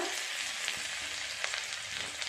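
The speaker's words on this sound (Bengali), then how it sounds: "এই একই তেলের মধ্যে দিয়ে দেব কুচিয়ে রাখা রসুন, কুচিয়ে রাখা আদা," Chopped garlic and ginger sizzle in hot oil left from frying eggs, a steady, fairly soft crackling hiss with small pops throughout.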